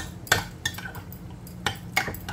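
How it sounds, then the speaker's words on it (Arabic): Yogurt and garlic being stirred in a bowl with a spoon: a few sharp clinks and scrapes of utensil against the dish, spaced irregularly over a quiet background. "حرك هاللبن هون"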